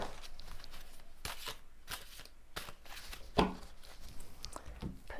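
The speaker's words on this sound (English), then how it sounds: "put these back into the pack and give a good shuffle" A deck of tarot cards being shuffled up close, with repeated riffling and flicking bursts that rise and fall in a steady rhythm, plus one sharper slap near the middle; no voices.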